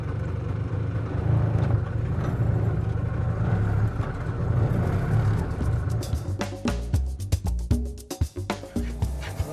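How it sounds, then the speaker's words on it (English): A tuk-tuk auto rickshaw in India drives along with its small engine chugging steadily under road noise, then throbs in quick uneven pulses as it slows toward the end, with no talk. "I have convinced Shambhu to let me drive his tuk-tuk"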